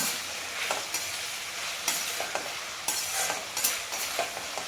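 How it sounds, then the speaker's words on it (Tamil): Pirandai (adamant creeper) being sautéed with tomato in a pan, with soft sizzling and repeated stirring scrapes at a steady, moderate level, no talking. "நல்லா வதக்கிட்டுக்கலாம்"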